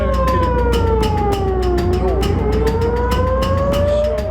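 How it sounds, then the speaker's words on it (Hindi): Air raid warning sirens wailing across northern Israel after night missile attacks, a loud, steady rising and falling tone with rapid rhythmic pulsing beneath it. "रात में मिसाइली हमलों के बाद पूरे उत्तरी इजराइल में खतरे के सायरन बज उठे।"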